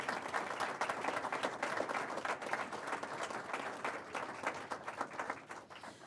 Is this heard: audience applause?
yes